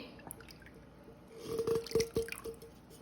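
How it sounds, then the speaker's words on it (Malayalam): Thin second-extract coconut milk poured into simmering lentil payasam in a pot, a few wet splashing and dripping bursts in the middle of the clip, close and moderately loud, with quiet room hum around them and no talking. "ഇനി നമ്മൾ രണ്ടാം പാൽ അങ്ങ് ഒഴിക്കാൻ പോവുക"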